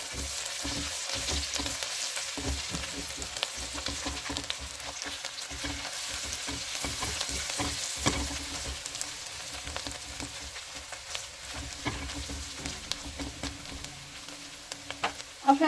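Steady sizzling of onion and garlic frying in a pan, with scraping and clinking as it is stirred, close and continuous, no voices.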